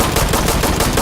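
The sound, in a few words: gunfire in the video game Insurgency: Sandstorm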